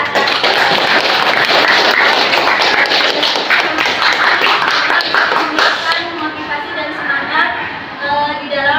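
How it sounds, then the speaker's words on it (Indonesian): Classroom students clapping together during a history lesson, loud and close, a burst of rapid hand claps lasting several seconds before thinning out under a teacher's voice. "Kita kasih tepuk tangan dong"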